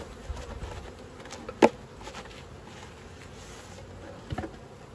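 Honey bees hum faintly in an opened hive box, a soft, steady buzz broken by a couple of brief knocks.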